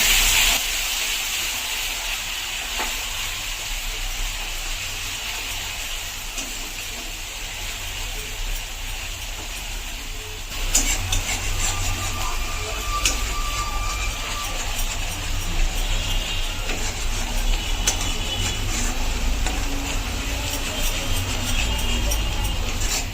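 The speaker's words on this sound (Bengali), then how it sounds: "এবার ওই তেলেই আমি পেঁয়াজ বাটাগুলো দিয়ে দেবো। দিয়ে ভালো করে আমি এটা ব্রাউন ব্রাউন করে ভেজে নেব।" Onion paste fries in oil for a Bengali-style sardine curry, giving a continuous broadband hiss and sizzle that grows slightly louder partway through, with faint clinks under it.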